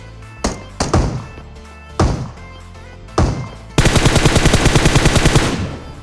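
PUBG Mobile gunfire: several single loud shots spaced apart, then a rapid automatic burst of evenly spaced shots lasting about two seconds, close and punchy, with no speech.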